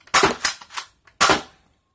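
A BoomCo Halo Brute Spiker toy blaster is fired, giving a quick burst of loud, close plastic snaps and clacks followed by a pause and one more sharp shot.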